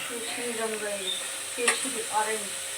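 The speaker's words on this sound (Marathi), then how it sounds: "हे चांगलं भाजून घ्यायचं आहे" A mixture with jaggery roasts in a pan, giving a soft hiss and sizzle under a few scraping stirs, with faint voices murmuring in the background.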